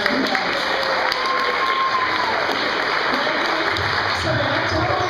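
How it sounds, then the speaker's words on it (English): A crowd gives loud, sustained, dense applause for a young teenage presenter, with some cheering mixed in. "let's give her a really big round of applause"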